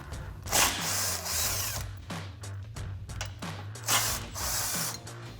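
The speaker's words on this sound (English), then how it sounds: "I'm going to take my 17 millimeter on my gun" Impact gun with a 17 mm socket backing out bolts on a 2014-2021 Toyota Tundra during a front winch bumper install, heard as repeated rattling bursts of whirring hammering, close and loud, with short pauses between runs.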